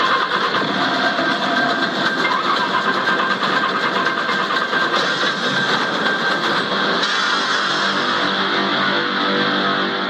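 A vehicle engine runs loud and steady for about ten seconds, a dense continuous drone with a slight shift in tone near the end and no voices over it.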